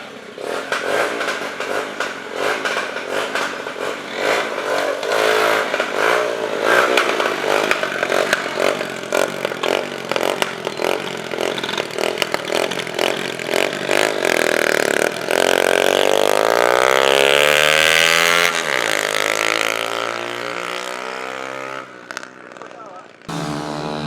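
Racing motorcycles circulate on a track during a trackday in Kenya, engines revving hard and buzzing, with one bike swelling loud and sweeping down in pitch as it passes close by, while a person talks over the noise.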